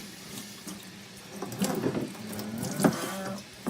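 Water from a sink tap runs steadily as a metal part is rinsed after scrubbing with a Scotch-Brite pad for rust prevention, with occasional splashes and clunks of the part against the basin, close and alone.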